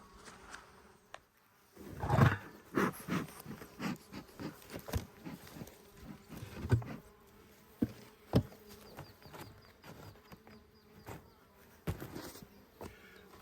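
Honey bees buzz faintly during a beehive inspection, a low hum under scattered close knocks and clicks from handling the hive.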